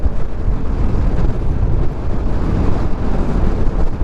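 Strong wind buffets the microphone in a dense, continuous roar with gusting pulses, loud and close, during a ride near Atimonan.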